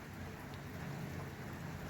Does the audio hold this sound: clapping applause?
no